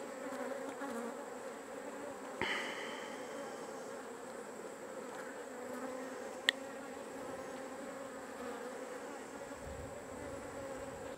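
Honeybees buzz steadily around an opened hive, a dense, continuous drone with a couple of faint knocks, close and without speech.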